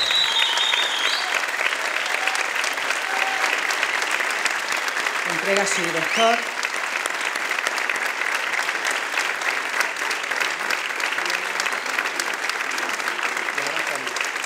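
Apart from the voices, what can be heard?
audience applause at a municipal band concert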